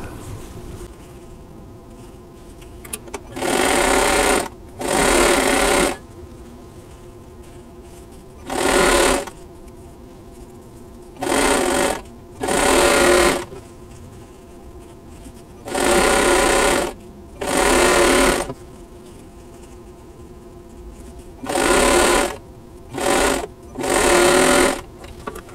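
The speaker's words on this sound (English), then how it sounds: "I'm just going to sew them together into four patch units." A sewing machine joining half-square-triangle quilt patches into four-patch units runs in loud, close bursts of rapid needle hum, each lasting one or two seconds, separated by short quiet pauses, with no talking.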